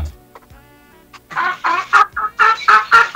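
A chicken clucks in a quick run of loud, close bursts after a quieter start of faint noises, the clucks coming in a steady, choppy rhythm.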